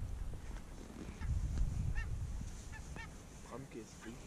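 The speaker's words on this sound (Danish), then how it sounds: "Men så kom der gæs, ikke hva'?" Barnacle geese honking outdoors in a flock, several separate nasal calls scattered over a few seconds at moderate distance, over low wind-like rumble and handling noise.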